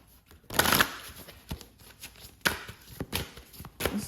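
Tarot and oracle cards shuffled by hand in repeated brisk riffling bursts with short pauses between them, close and fairly loud, no talking.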